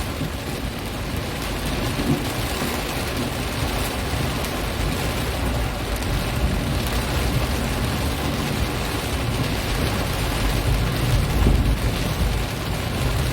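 Heavy tropical rain pours down on a road toward the airport in Palembang, a dense, steady roar of broadband noise with deep rumbling underneath and no voices.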